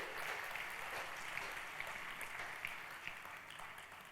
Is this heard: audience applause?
yes